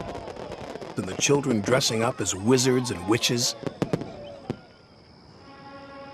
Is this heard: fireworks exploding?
yes